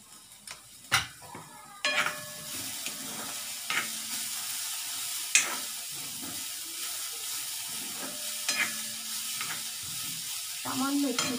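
Poha pulao with jaggery and carrot being stir-fried in a pan, a soft continuous sizzle broken by repeated scrapes and clinks of a spoon against the pan, close and fairly quiet.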